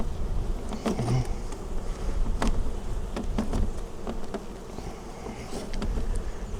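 Honey bees buzz steadily around an open early-spring production hive during an inspection, a continuous close swarm drone with scattered louder fly-bys and light clicks of frames.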